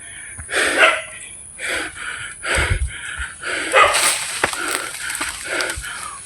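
Several dogs barking in a series of loud, close bursts spaced about a second apart, some yelping, with rustling between barks.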